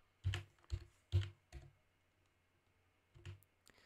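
Computer keyboard typing: a few separate, close clicks in a short burst, a pause, then two more keystrokes, in an otherwise quiet room.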